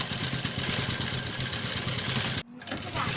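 A sewing machine stitches a canvas neck piece onto a kurta, running as a steady fast mechanical whir that briefly stops near the end before resuming, close and loud.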